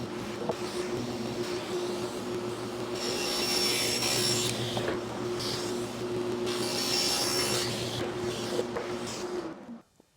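A power saw rips steadily through a wood sheet, a sustained buzzing whine with rougher surges of cutting noise midway, close and loud before cutting off abruptly at the end, with no talking.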